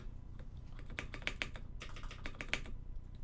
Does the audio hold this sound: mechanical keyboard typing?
yes